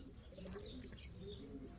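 Soft cooing and faint chirps from Turkish Gömü pigeons over a constant low hum, with occasional fluttering; the birds sound close but quiet.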